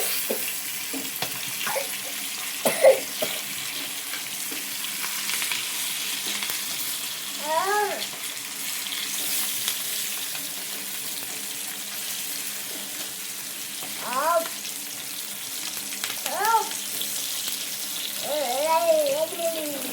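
Fish fries gently in a thin layer of oil over a slow flame, a soft continuous sizzle with occasional brief utensil scrapes and a few faint background voices.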